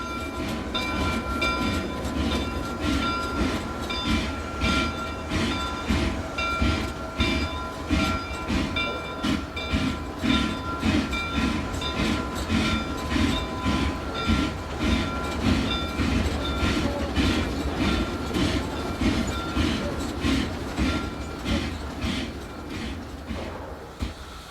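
Sierra Railroad number 38, a 1934 Baldwin 2-6-6-2 logging steam locomotive, chuffs in a steady driving rhythm with a sustained whistle-like tone over it, loud and close, easing slightly at the end.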